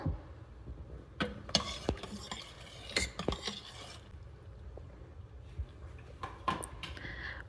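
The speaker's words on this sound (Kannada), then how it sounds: "ರುಚಿಗೆ ತಕ್ಕಷ್ಟು ಉಪ್ಪು ಹಾಕಿ ಚೆನ್ನಾಗಿ ಮಿಕ್ಸ್ ಮಾಡ್ಕೋಬೇಕು" A spoon stirs drumstick sambar ingredients with chili powder and salt inside an Instant Pot, making soft scraping and scattered metallic clinks against the inner pot, quiet and close.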